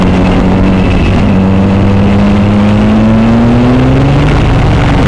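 A Suzuki V-Strom 1000XT motorcycle engine on a test ride, a loud steady drone with the pitch rising gradually as the bike accelerates, heard close with wind rumble and no speech.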